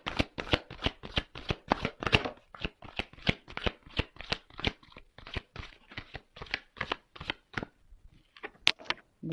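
Tarot cards are shuffled by hand, a rapid, close, crisp run of riffling slaps and flicks repeating steadily with no talking.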